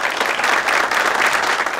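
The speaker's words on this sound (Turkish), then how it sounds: "Vay, bir alkış!" A studio audience on a talk show bursts into dense, steady applause that stays loud and even for the whole short stretch, with no voices over it.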